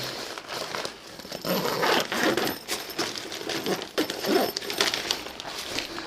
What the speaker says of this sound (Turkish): Evet şu anda fermuarımız kapandı.